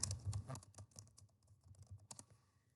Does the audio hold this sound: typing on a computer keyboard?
yes